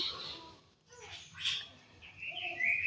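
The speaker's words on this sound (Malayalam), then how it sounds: "നമുക്ക് കിളികളുടെ സൗണ്ട് കേൾക്കുന്നുണ്ടാവും ഡിസ്റ്റർബൻസ് ആയിട്ടുണ്ടെങ്കിൽ സോറി" Faint bird chirps and tweets at a distance, a few short calls scattered over quiet background.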